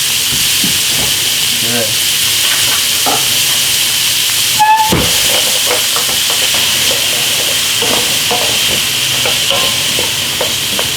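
Jalapeno and chicken cooking in a pan, giving a steady loud hiss and sizzle with occasional stirring clatter, and a short word spoken partway through.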